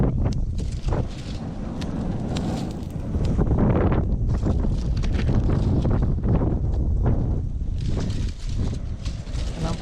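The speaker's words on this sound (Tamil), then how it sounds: "பாருங்கள் அவ்வளோ காற்று இது." Strong wind on a mountainside at a tentless solo camp: a loud, steady roar of gusts buffeting the microphone throughout, rumbling and unbroken.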